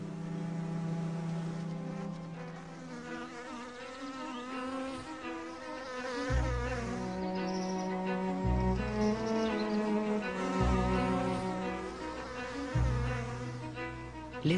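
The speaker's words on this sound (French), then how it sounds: "Les abeilles redoublent d'activité." Honeybees swarm around their hive in a dense, continuous, layered buzzing that holds steady and fairly loud from start to finish, with no voices.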